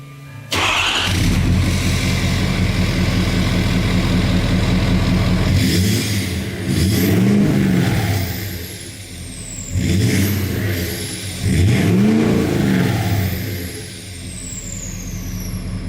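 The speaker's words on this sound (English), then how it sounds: "And this is with Flow Pro 4-inch exhaust with muffler." A Ford 6.7 Powerstroke diesel truck fitted with a Flow Pro 4-inch exhaust and muffler idles nearby and revs hard several times in deep, swelling pulls that drop back to a steady rumble.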